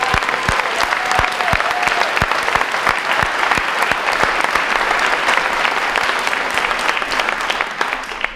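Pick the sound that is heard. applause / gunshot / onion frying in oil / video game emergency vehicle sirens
applause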